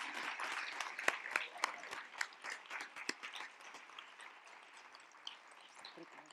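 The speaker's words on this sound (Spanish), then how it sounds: "Un aplauso para ella." An audience at an afternoon event applauds a co-founder, with scattered sharp claps that are dense at first and then thin out. The clapping is fairly faint, and a voice can be heard underneath.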